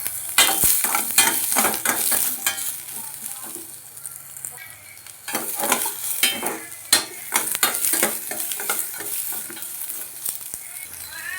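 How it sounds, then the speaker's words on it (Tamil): Chopped large onions sizzle and hiss in a pan while being stirred for an Andhra-style onion chutney, with bursts of scraping and clatter from the spatula between steady frying crackle, close and fairly loud. "ஒரு 2 பெரிய வெங்காயம் அரிஞ்சு வச்சுருக்கேன் நீல வாட்டில். இதை எடுத்து போட்டு வதக்கிக்கலாம்"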